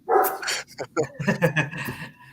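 A dog barks and yips in short, agitated bursts close by, mixed with whimpering sounds, while a person's voice talks over part of it.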